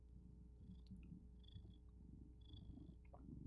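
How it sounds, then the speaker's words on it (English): A cat purs loudly and steadily up close, a continuous low rumbling that runs unbroken for several seconds against a quiet room background. "He's just purring really loud"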